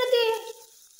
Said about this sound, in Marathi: आता तळून दिला कांदा